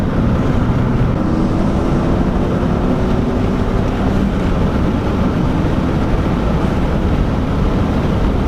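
Stage 3 tuned Ford Fiesta ST engine and exhaust heard from inside with the windows down, a loud steady drone with a faint rising tone and no speech.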